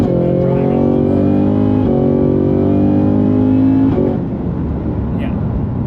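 A Cadillac CT5-V Blackwing pulls hard from 50 to 115 mph, its engine note climbing loudly and steadily through the gears before the revs drop near the end, heard from inside the car.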